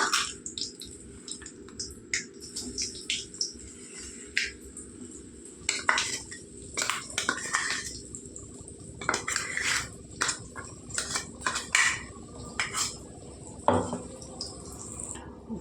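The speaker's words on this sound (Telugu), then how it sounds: "పచ్చడి అంత బాగా కలిసేలాగా నూనె కలుపుకోవాలండి" A metal spoon scrapes and clinks against a pan while oil is stirred into yam (kanda) chutney, giving irregular close clatter and stirring noises with no talk.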